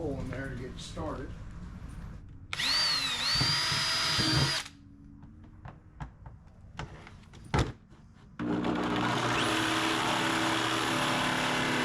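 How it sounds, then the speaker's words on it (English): A power drill bores a hole into a cooler lid while mounting a fish catch counter, in two loud, sustained whining bursts separated by quieter handling noises, with someone talking nearby. "Drill a hole in there to get started."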